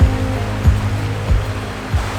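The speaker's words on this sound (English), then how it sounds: "Man, this section of the river is absolutely stunning." A river flows through Australian wilderness, a steady rushing wash with soft low thumps every half second or so, fairly loud and close, with no voices.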